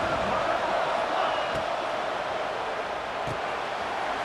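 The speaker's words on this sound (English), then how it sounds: "Listen to the crowd energy here in the early going." Stadium crowd in the EA Sports College Football 26 video game, a steady, dense roar of fans at a college football game with no distinct individual cheers, continuous and fairly loud throughout.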